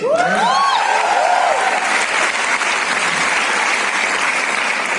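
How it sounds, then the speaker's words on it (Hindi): Audience applause for Manthan at an entrepreneurs' event, a loud sustained clapping from a crowd filling the whole stretch, with a brief voice or whoop near the start. "सबसे पहले तो मैं चाहूंगा कि आप मंथन को तालियां दीजिए"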